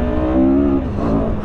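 A CFMOTO CLX 700 motorcycle with a 693 cc twin-cylinder engine making about 70 horsepower accelerates in Sport mode. Its engine note is loud and close and keeps on without a break, with a rising drone and no talk over it.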